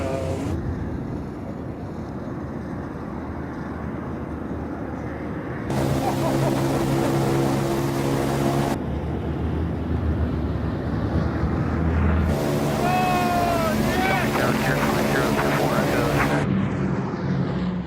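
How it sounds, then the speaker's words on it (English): Engines of a 1940s bomber aircraft in flight, a steady droning roar that shifts in level across several cuts, with someone talking over parts of it. "This is the first for me to fly in a 1940s bomber."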